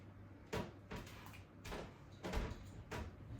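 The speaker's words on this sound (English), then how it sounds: "Close the door" A puppy crate door closes with several faint clicks and rattles spread over a few seconds, quiet and close, in an otherwise hushed room.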